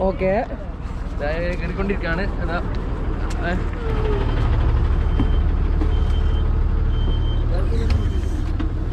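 A bus that arrived overnight from Delhi to Manali reverses with intermittent electronic warning beeps over a steady low engine rumble, with people talking nearby throughout.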